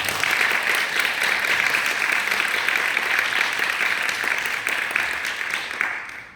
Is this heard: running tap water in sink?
no